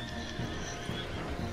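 A horse whinnies amid the clip-clop of hooves in the video game Red Dead Redemption, the neigh loud and close over a dense background of game ambience.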